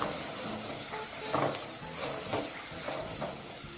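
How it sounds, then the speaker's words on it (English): Chili chicken sizzling and frying in a pan on a stove top, with steady hiss and several soft scraping stirs at an even, unhurried pace, close by and with no talking. "allow your chicken to continue cooking until it's ready"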